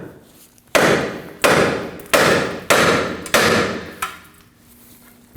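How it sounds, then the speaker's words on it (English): A hammer strikes the bottom of a steering knuckle on a 2009-2014 Ford F-150 to release the lower ball joint: five loud, evenly spaced metallic blows ring out close up, followed by one lighter tap. "Now we're going to strike the bottom of the knuckle to get the lower ball joint to release."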